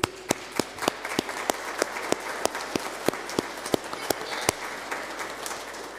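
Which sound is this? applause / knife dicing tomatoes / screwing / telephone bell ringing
applause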